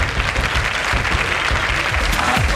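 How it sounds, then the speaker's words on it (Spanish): Applause from a TV studio audience on a Spanish late-night talk show, a dense, steady roar of clapping held at full level throughout with no talking on top. "Un aplauso para Pau Codina"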